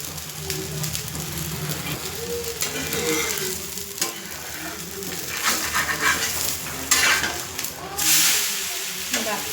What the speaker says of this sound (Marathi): असं तेल टाकायचं थोडं थोडं साईडला म्हणजे पराठे कच्चे राहते एकदम